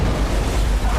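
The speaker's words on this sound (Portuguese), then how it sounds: "A cabine explodiu." A dramatized DC-10 cargo door blowout with cabin decompression at about 3,600 metres, a sustained loud roaring blast of rushing air and rumble filling the whole moment.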